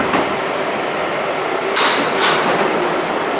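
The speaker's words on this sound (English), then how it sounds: "Nothing like an almost empty subway car at rush hour." Nearly empty New York subway car, a 7 local train near 103rd Street–Corona in Queens, rumbling steadily with a continuous roar of wheels on rail and two brief brighter hissing swells, no voices.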